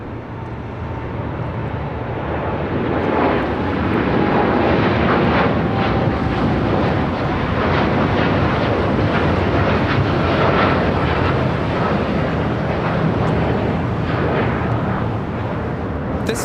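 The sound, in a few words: American Airlines Boeing 787-8 Dreamliner taking off at LAX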